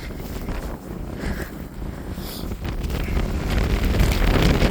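Strong wind in a snowstorm roars and buffets the microphone continuously, growing louder and gustier toward the end.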